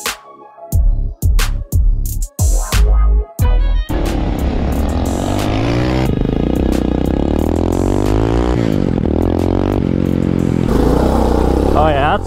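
A Motovox mini bike fitted with a dirt bike engine roars loud and close, with choppy throttle blips at first, then a continuous rising rev as it accelerates through the gears.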